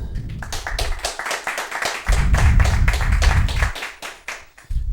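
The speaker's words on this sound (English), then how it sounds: "Can we get a round of applause, please?" An audience at a talk on psychedelic treatment claps together in a dense, steady burst of applause that swells midway and fades toward the end, with no one speaking.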